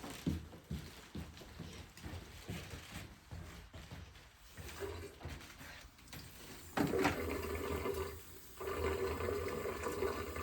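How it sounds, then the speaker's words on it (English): Tap water running into a sink while hands are washed, a steady close rushing stream with splashing that grows fuller and louder partway through. "then I would go ahead and go wash my hands"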